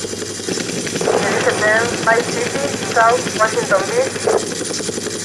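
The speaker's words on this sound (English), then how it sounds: "Helicopter." An Apache helicopter in the game GTA Vice City drones steadily with a constant rotor and engine hum throughout, while a voice talks over it.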